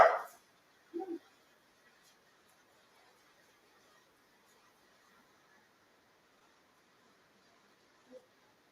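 A pet dog indoors during a home workout gives two short barks right at the start, then stays quiet apart from one faint sound near the end.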